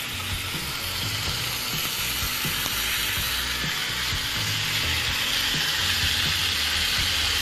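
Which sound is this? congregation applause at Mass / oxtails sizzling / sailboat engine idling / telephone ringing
oxtails sizzling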